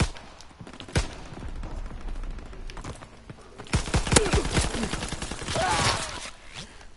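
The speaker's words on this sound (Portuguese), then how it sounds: "é só tiros e não morrem" Gunfire in Call of Duty WW2: several sharp shots ring out, some isolated and some in quick bursts, with a dense cluster near the middle, over low game background noise.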